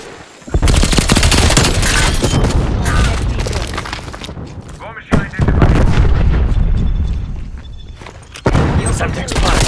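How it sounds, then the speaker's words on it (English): A Semtex grenade blast in Call of Duty: Black Ops Cold War, a sharp loud boom that rolls into a long rumbling roar, with further heavy blasts and gunfire following close and loud. "Bombing Semtex."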